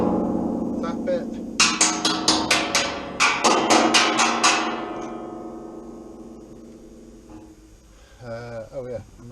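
Someone raps repeatedly on the steel door skin of a 1986 classic Mini, comparing a sound-deadened panel. About a dozen quick, sharp taps arrive in two rapid runs, then fade into a brief spoken remark at the end.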